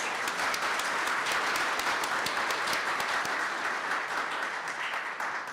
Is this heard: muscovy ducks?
no